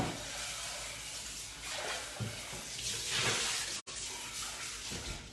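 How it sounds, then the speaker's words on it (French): Water from a tap rushes steadily over a Thermomix Découpe Minute slicing attachment as it is rinsed, a loud, continuous splashing flow with one brief break near the end. "je rince un petit coup"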